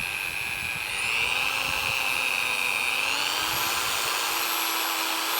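A Barjack professional rotary polisher with soft start runs on its first speed, giving a steady, close motor whine with a faint rise in pitch partway through. It hums on alone with no talk.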